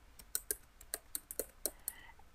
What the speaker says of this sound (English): I'm just going to type in the year 2016 and my name